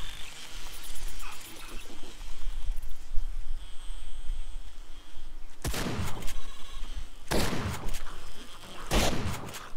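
Gunfire in the video game 7 Days to Die, several loud, sharp shots in the second half against a steady background of game ambience.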